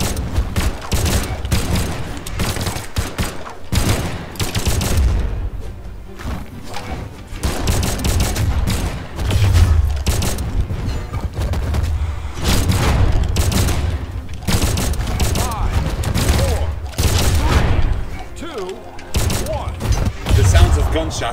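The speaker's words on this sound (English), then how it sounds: "Shots. That's all I heard." Brawlhalla gunshots come in dense, rapid bursts with booming thumps, loud and continuous amid frantic game action and voices talking over the fighting.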